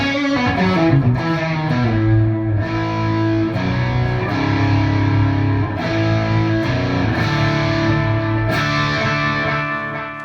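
Electric guitar through a TC Electronic G System plays sustained chords and melodic notes drenched in delay and reverb, each note trailing echoes, loud and continuous without any voice.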